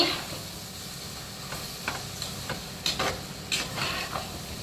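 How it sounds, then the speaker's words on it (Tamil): Vegetables sautéing in oil for a vegetable biryani, a low steady sizzle broken by a few scraping stirs of a spoon in the pan, close and fairly quiet, with no one talking. "காய் வந்து நல்லா வதங்கி எண்ணெய் பிரிஞ்சு வந்துச்சு."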